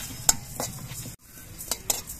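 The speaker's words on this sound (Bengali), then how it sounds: "পাঁচ ফোড়নটা নাড়াচাড়া করে সুন্দরভাবে ভেজে নিতে হবে" Panch phoron and cumin seeds fry in a kadai as a utensil stirs them, giving scraping clinks over a faint sizzle, with a brief pause midway.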